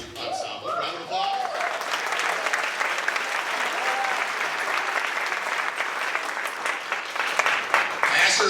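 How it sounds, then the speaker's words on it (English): Audience applause at an honor band performance, greeting a guest conductor of the high school ensemble, with dense, steady clapping that swells slightly near the end, and a few voices briefly heard within it. "Round of applause."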